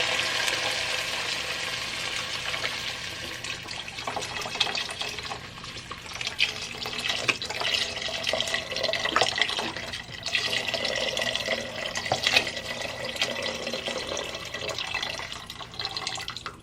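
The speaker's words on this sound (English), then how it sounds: "I'm adding 2 cups of water" Water pours steadily into a pot of lentil soup with chicken broth, two cups going in with a continuous splashing, gurgling flow heard close up.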